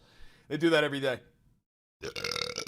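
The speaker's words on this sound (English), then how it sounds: "Excuse me, sorry about the burp." A man on a live news commentary stream says a short line, pauses, then lets out a loud, drawn-out burp close to the microphone.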